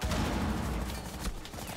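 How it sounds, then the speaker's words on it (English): Rainbow Six Siege gunfire rattles as a dense, continuous burst of shots at close range, filling the whole stretch with little pause. "Why are you shooting me?"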